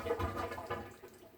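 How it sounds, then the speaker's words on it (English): Water bubbles and gurgles down a partially clogged washing machine drain that has filled and overflowed onto the floor, a close, continuous gurgling wash that tapers off toward the end. "you can hear it bubbling going down the drain"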